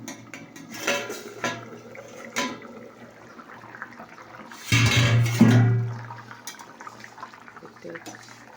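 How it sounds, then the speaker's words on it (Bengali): A lid set down on a pot of fish curry with papaya and potato, giving a close metallic clatter and scrape that rings briefly, following quieter kitchen clinks and soft bubbling. "এবার আমি ঢাকা দিয়ে দেবো"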